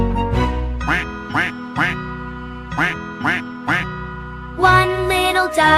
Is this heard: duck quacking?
yes